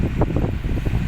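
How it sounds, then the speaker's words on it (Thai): Strong wind buffets the microphone at an outdoor off-road event in Thailand, a loud rough roar with rapid gusty pulses filling the low end throughout. "ลมค่อนข้างแรงนะครับ"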